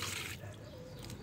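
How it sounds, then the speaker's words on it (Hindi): Water pours out of a tilted garden flower pot, a short burst of splashing that drops to a softer trickle, close by with no speech. "गमले को हम ऐसे तिरछा कर देंगे और इसका पूरा पानी हम गिरा देंगे।"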